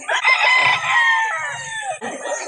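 Chickens and roosters at a chicken market in Calauan, Laguna crow and cluck loudly and continuously, several birds overlapping close by with one long crow standing out.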